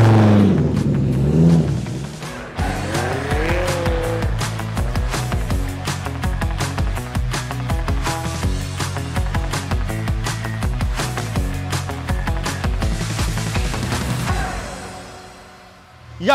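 A Dodge Viper with an 8-litre V10 drives off and accelerates, its loud, continuous engine note rising and falling through the gears for most of the stretch before fading away near the end.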